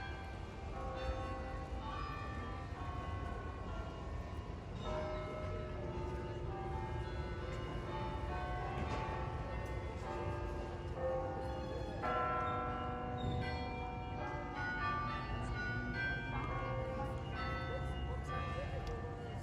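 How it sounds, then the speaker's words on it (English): Bells of the Bruges belfry chime a long, layered carillon melody over a busy outdoor square, the tones ringing steadily at a distance for the whole stretch with crowd murmur and faint voices beneath. "The sounds of bells chiming."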